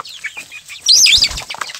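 A Kadaknath hen on a small poultry farm flaps its wings in one loud, close burst as it is caught, framed by soft clucks before and after.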